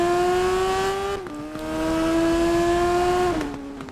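Motorcycle engine in the TT Isle of Man racing game, a smaller, slower bike holding a steady high-pitched whine, with quick gear-change dips in pitch partway through; no talking.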